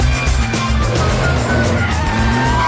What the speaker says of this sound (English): That is power sliding now. Look at that! He's doing the donut!